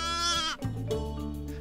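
A young lamb, an orphaned sacrificial lamb kept in a home, bleats loudly and close by in two drawn-out cries, the second lower and wavering, with no talk over it.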